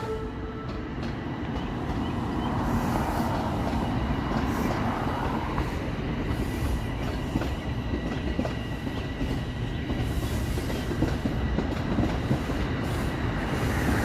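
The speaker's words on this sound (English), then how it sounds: "It's another train." A train rolls past on a Toronto evening, a steady, loud rumble of railcars with rhythmic clickety-clack wheel beats across the rails throughout, and no talking over it.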